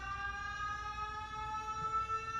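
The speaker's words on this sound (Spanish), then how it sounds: "la sirena ya, ¿no?" A siren wails steadily throughout, its sustained tone holding at a constant level with a low rumble underneath and no talking.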